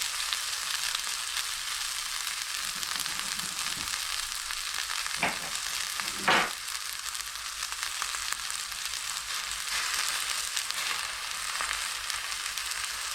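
Two hundred grams of rocket leaves fry in a pan with a steady, moderately loud crackling sizzle and a couple of sharp stirring clatters midway, with no talking.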